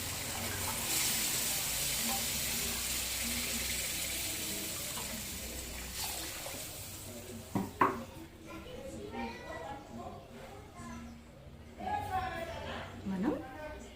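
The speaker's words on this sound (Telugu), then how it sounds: "నేనైతే వాటర్ యాడ్ చేస్తాను." Water poured into a hot pan for semolina kesari gives a loud rushing hiss and sizzle for several seconds, then fades out while a person talks over light clatter.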